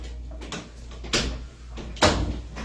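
A door thuds shut indoors in a room used for HO slot car budget builds, with two dull knocks about a second apart over a steady low hum.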